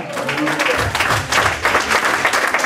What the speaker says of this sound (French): Est-ce qu'on peut acclamer pour Jéhovah?